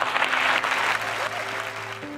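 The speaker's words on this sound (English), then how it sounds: "Let's give them a round of applause." Steady applause from an audience at an Apple event, a continuous wash of clapping filling the whole short stretch at even loudness.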